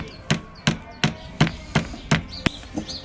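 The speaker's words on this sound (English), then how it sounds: "so let's give that a few taps" Seven sharp metallic taps, evenly spaced at a steady rhythm, driving a pulley onto the power steering pump of a 1978-1984 Porsche 928 on a workbench, close and distinct with quiet gaps between blows.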